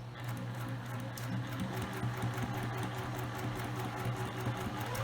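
Sewing machine back stitching the lining of a ring bag, a continuous close, steady motor hum with fast needle chatter, fairly quiet and without pause.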